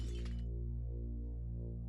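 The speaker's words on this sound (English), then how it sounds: "I heard something break. I heard like something shatter." A glassy shatter with a bright burst at the start in Legacy of Kain: Defiance Remastered, then a steady low game hum, with a second sharp crack right at the end.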